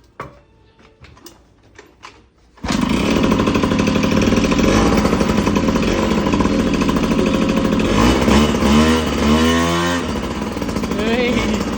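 Honda Dio 2 scooter engine with a new straight pipe exhaust starts up after a few quiet clicks, then runs loud and close with a raspy rattling idle and a couple of rising revs near the end.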